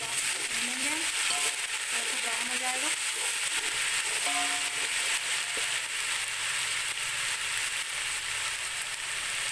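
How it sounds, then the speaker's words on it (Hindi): Ginger and garlic fry in a pan for peas pulao, giving a loud continuous sizzle with intermittent stirring scrapes and faint background sounds throughout. "अदरक लहसुन थोड़ा सा भून जाएगा"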